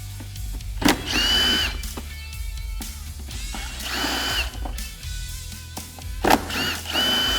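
Power driver backing out T30 Torx screws from the bedside of a Can-Am Commander XT, several short whirring bursts separated by clicks and brief pauses, loud and close.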